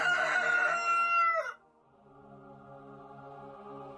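A rooster crows once, loud and close, with a long strained call that breaks off after about a second and a half, followed by a quieter, lower sustained tone.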